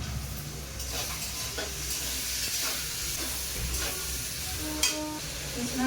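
Eight green chillies frying in ghee in a pan, a steady close sizzle and hiss with faint stirring scrapes running throughout, with no talk.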